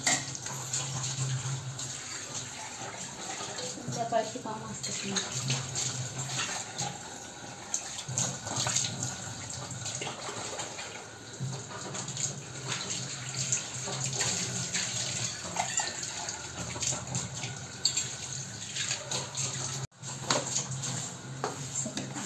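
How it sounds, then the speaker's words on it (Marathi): Water running from a home kitchen tap, a steady splashing flow into the sink with clatter of dishes and utensils, and someone speaking briefly. "पाणी आलेलं आहे नळाला."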